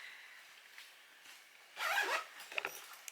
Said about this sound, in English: its zipper's closed